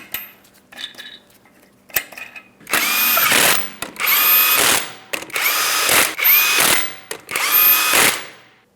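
An impact wrench spins 21mm lug nuts onto a Ford Transit 250 wheel in a crisscross pattern, with a few faint clicks first and then four loud whirring bursts separated by short pauses.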